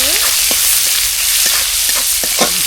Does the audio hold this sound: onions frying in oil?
yes